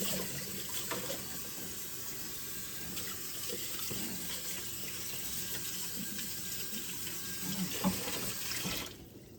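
Water hisses steadily from a kitchen sink sprayer over a turkey being rinsed, a constant close spray with faint splashes and no voices, cutting off at the very end.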